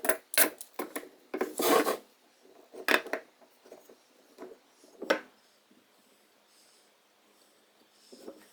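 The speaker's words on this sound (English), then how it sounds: "Now I just need to start sanding." A wooden chain link cut from a 2x4 being hand sanded, giving close, rasping scrapes in uneven bursts with short pauses between strokes, quieter toward the end.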